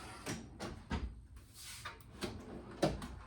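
Drawers of a tool chest in a one-car garage woodworking shop slide open and shut several times in a row, a series of short metallic rolling clunks, fairly quiet and close, with no talk.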